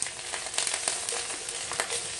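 Shrimp sautéing in a hot pan for a Filipino home-cooked dish, with a steady, dense sizzle and a few scattered stirring clicks, close and loud with no talking.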